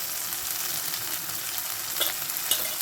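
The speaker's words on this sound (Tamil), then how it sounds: "பூவையும் கீரையும் அதில் மிக்ஸ் பண்ணிக்குவோம்" Drumstick flowers and greens stir-frying in a pan for murungaipoo poriyal, a steady close sizzle with light scraping of the spoon and a couple of brief louder clinks near the end, no voices.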